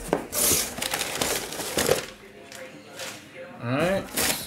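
Paper crumpling and crinkling while a trading card case is unpacked, with bursts of rustling handling noise spread across several seconds and a voice speaking briefly near the end.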